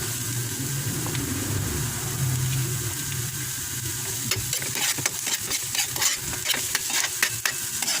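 Ginger frying in a pan with oil, a steady sizzle at first, then a spatula stirring and scraping in quick irregular strokes over the continuing hiss.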